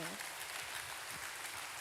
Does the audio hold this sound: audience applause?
yes